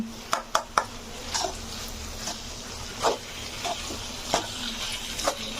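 Brinjal curry being stirred in a pan over low heat: a few sharp spoon scrapes and taps against the pan. These repeat irregularly over a soft, steady sizzle, fairly close and quiet.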